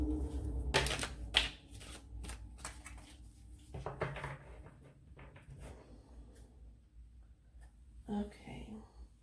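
Tarot cards are shuffled in quick crisp riffling bursts, close and soft, with quiet whispered speech between the bursts.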